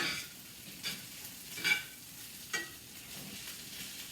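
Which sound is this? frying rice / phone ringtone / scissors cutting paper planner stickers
frying rice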